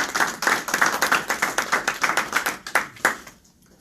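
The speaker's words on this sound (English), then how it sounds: "Give a round of applause for her." An audience claps for the new Bronx Borough president at a community panel event, a brisk burst of many hands applauding close by, steady for about three seconds before trailing off to quiet.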